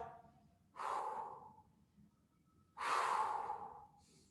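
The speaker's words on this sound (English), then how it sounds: "Deep breath as you stretch." Two deep, slow breaths taken during a cool-down stretch after a cardio kickboxing workout, each a soft, airy inhale-exhale heard close and quiet with a pause between them.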